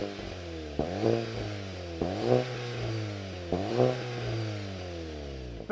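A new Volkswagen Golf GTI Mark 8 hot hatch revs through its exhaust in three distinct blips, each a sharp rising snarl that falls back to idle, close and clear with no talking.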